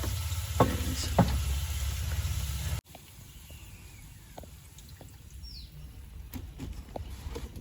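Coconut oil heats in a pan at a riverside camp, giving a faint, steady sizzle and crackle with soft clinks, briefly louder at the start before settling into a low continuous fry.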